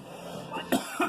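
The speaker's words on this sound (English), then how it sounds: "Sorry for coughing." A person coughs twice in quick succession, short husky bursts close to the microphone over quiet game background sound.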